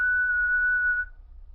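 A single steady whistled note held for about a second, clear and fairly close, then fading out into quiet low rumble.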